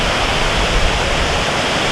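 Broadband roar of High Falls waterfall at Wawa, Ontario, a steady, dense rush of heavy falling water heard close and loud, unbroken for the whole stretch with no voices.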